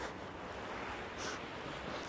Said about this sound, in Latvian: Nāk vējš, tieši ienāca vējš no fabrikas.